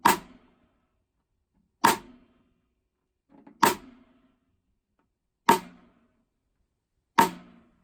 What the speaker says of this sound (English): Side stick.